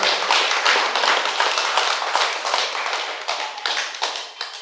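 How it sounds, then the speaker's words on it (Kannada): A satsang audience claps loudly and continuously, a dense patter of close hand claps with slight surges that thin out a little toward the end. "ಒಂದು ಜೋರಾದ ಚಪ್ಪಾಳೆ ಮುಖಾಂತರ"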